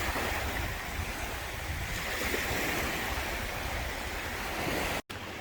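Surf washing onto a secluded beach on Don Pedro Island, a continuous broadband roar of breaking waves with some wind buffeting the microphone, steady and fairly loud, cutting off abruptly near the end.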